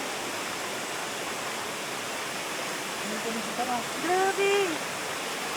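Steady broadband rush of a waterfall swollen and milky after rain, constant and moderately close, with a brief voice exclaiming over it near the end.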